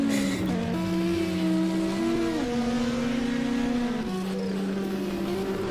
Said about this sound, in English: Audi S1 with Philotheus Argyro. Turbocharged engine, makes a wonderful sound